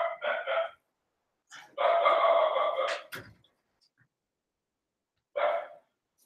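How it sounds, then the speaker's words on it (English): Dogs bark frantically at visitors coming to the door of a home in Bali, several loud harmonic bursts close by: a short volley, a sustained run of overlapping barks, then one more bark after a pause. "Dogs going completely insane."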